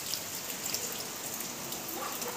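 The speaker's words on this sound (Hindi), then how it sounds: "दोस्तों बहुत तेज बारिश हो रही है।" Heavy rain pours steadily, a dense continuous hiss of drops striking surfaces with no pauses.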